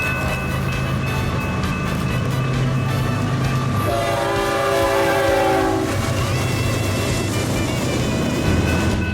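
A freight train led by GE locomotives rumbles past loud and close, its horn blaring in sustained blasts over the steady roll and clatter of the railcars.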